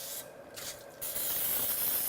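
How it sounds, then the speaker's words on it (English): Non-stick cooking spray hisses onto a 9x13 baking tray in one steady, close burst lasting about two seconds, with a brief dip partway through. "I'm just gonna spray it with some non-stick spray so that it doesn't stick on the side."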